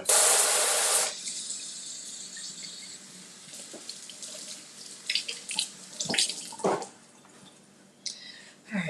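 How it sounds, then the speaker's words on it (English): Tap water running into a sink while a pepper and hands are washed, a loud stream for a second, then splashes, drips and handling noises. "I'm going to wash it and wash my hands"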